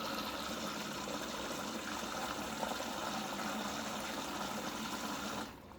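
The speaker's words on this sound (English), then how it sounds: "it's pulling in water on the left hand side" A Samsung ecobubble washing machine draws water in on its left side, a steady, loud rushing hiss of filling that runs unbroken and then drops off abruptly at the very end.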